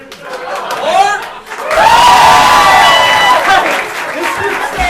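A live showcase audience bursts into cheering and applause to vote for a dance group, a loud swell of clapping and whoops that rises after a short voice and stays strong before easing off.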